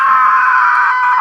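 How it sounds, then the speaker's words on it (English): A woman lets out one loud, sustained, piercing scream in a horror film scene, holding it for over a second before it bends downward at the end. "So the scream that we introduced leads into this new soundtrack"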